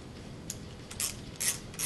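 A large torque wrench's ratchet mechanism clicks as its back piece is turned to switch direction, giving a few faint, sharp metallic clicks close by.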